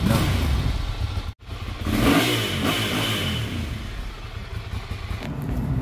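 A Ducati Monster 796 motorcycle fitted with an aftermarket loud muffler revs hard close by: a steady, throaty engine roar that cuts out sharply for a split second, then surges back and holds.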